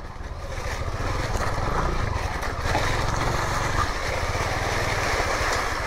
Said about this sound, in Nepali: बस्नु बस्नु त्यहाँ, म यताबाट निकाल्छु बाइक